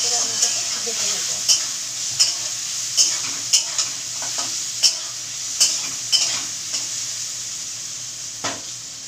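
Potatoes stirred and lightly fried in oil over a high flame for ghugni, a steady sizzle and hiss broken by sharp, regular spatula scrapes against the pan, close and clear with no talking.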